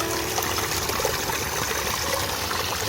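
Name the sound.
natural spring water gushing fast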